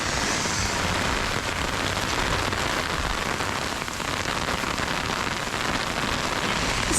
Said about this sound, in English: It's gone to hail.